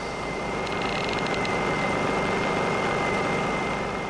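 Honda EU2000i inverter generator idling in eco mode, a steady continuous engine drone with a faint high whine, close and unbroken throughout.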